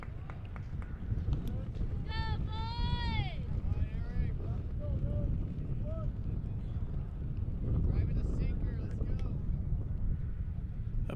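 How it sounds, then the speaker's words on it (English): Heavy low rumbling wind buffets the microphone throughout at an outdoor high school baseball game between Eagle Pass and Uvalde, with voices and some higher tonal sounds drifting in and out over it. "A bit windy here"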